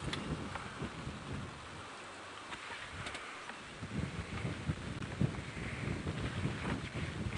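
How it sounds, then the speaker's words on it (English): Steady rain falls during a safari drive, a dense, continuous hiss with gusts of wind buffeting the microphone and low rumbles beneath, with no one talking. "The rain's not as hard as it was, but it is still here."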